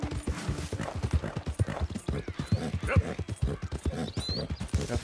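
Steady clip-clop of horse hooves at a brisk rhythm in Red Dead Redemption 2, close and fairly loud, with a few faint higher squeaks in the background.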